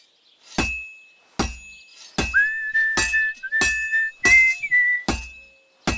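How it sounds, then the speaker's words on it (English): Seven loud metallic strikes as a hammer hits a sword on an anvil in the video game Kingdom Come: Deliverance 2, evenly spaced, each with a ringing clang, while a faint whistling tone runs between them. "Now take the hammer and try hitting it a few times."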